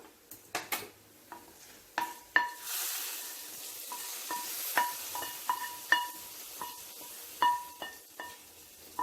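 A spoon knocks and scrapes in a hot pan of roasted-coconut crab curry with raw plantain, making sharp intermittent clinks over a soft sizzle, close and fairly quiet, with no talking.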